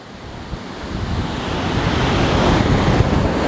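Sea waves wash against the shore with wind buffeting an exposed microphone, a broad steady roar that swells gradually louder, with no voices.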